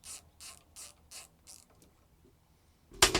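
A ratchet loosens a part on a golf cart during installation of a KS-1 high performance kit: five rhythmic bursts of clicking, then a pause with faint handling noise and a loud clunk at the end.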